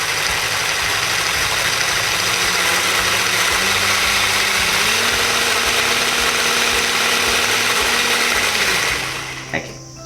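Panasonic MX-SS40 hand blender with whisk attachment running at its lowest speed, a steady close motor whine and buzz that holds for about nine seconds, then cuts off with a small knock.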